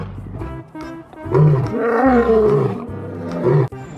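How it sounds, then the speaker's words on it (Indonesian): A large lion lets out a deep, loud roar that swells and rumbles for several seconds close by, with strong low growling tones and no talk over it. "Wih, singa besar sekali dan sangat suram"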